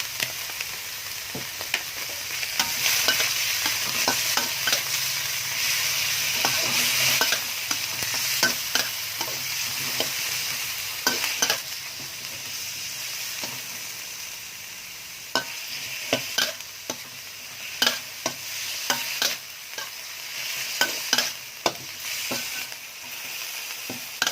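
Pork and garlic stir-fried in a pan: a steady, close sizzle runs throughout, broken by frequent sharp clinks and scrapes of a spatula against the pan, with no talking.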